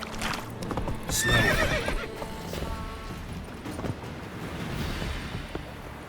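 Roach the horse trots in The Witcher 3, hooves clip-clopping steadily up close while a clear whinny rises early on, over a soft ambient wash.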